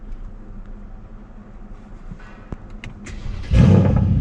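A Mercedes C63s AMG with its muffler deleted idles low and rumbling, with a sharp pop, then the engine bursts into a loud, deep roar close by.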